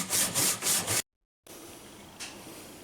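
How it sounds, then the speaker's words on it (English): A basic handsaw cuts through hardwood for knife handle scales in loud, close rhythmic strokes, three quick back-and-forth pulls, a brief break of silence, then slower steady rasping. "Here's one way you can do it with the basic handsaw."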